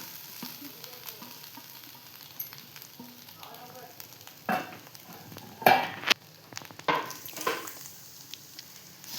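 Two bowls of freshly grated wet coconut stirred in a pan for a sweet dish, with a soft steady sizzle and a few louder scrapes and clatters of the spoon partway through.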